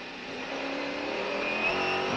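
A Mercedes-Benz CLR race car engine at Le Mans, a steady, droning mechanical roar with a tonal whine, heard at moderate distance and holding a fairly constant pitch.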